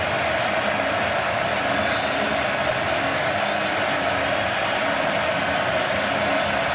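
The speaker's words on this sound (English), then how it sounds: "Crowd is really amped up." A packed football crowd at Kyle Field, Texas A&M's stadium, roars during a game against Auburn: a steady, dense wall of cheering and noise that holds at a constant loud level throughout.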